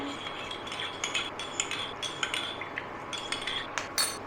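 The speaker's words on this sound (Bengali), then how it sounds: "জল দিয়ে গুলে নেবো, আর একটু জল দিয়ে দেবো, ভালো করে মিশিয়ে নেবো।" A spoon stirs a cornflour and water slurry for chicken momos in a bowl, giving repeated light clinks and scrapes of metal on the dish, fairly close and with no one talking.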